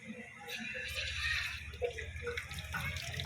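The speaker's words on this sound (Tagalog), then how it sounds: "hugasan na natin yung kamay natin ng tubig" Tap water runs steadily from a faucet while hands are rinsed clean of soap, a continuous close splashing hiss with a few brief bumps and no talking.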